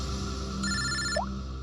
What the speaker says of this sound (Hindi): पंकज का फोन था।